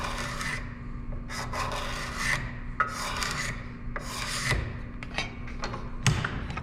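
Hand scraper rasping across the wood of a cabinet door to remove a burr, a series of close, steady rubbing strokes with a few light knocks between passes.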